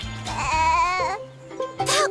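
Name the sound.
cartoon baby goat imitating a lion roar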